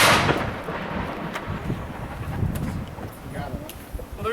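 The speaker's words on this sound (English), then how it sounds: "this is the cannon. Cannons are loud." A historic cannon at Fort Mackinac fires with a loud, boomy blast that rolls away into a long fading rumble and wind noise, followed by faint distant voices.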